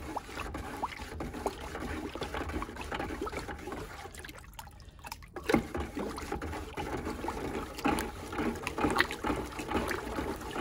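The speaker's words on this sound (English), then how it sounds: "And so I need to stir it up really well." Ceramic glaze that has separated, with water standing on top of the settled solids, being stirred: soft sloshing and liquid swirling with irregular knocks, fairly quiet and continuous, with one brief lull midway.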